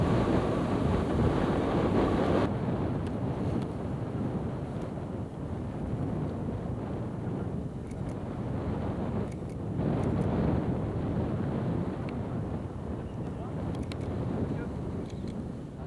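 Strong wind gusts steadily across a beach in Cabo Verde, a dense roaring rush of noise buffeting the microphone, with faint surf underneath throughout.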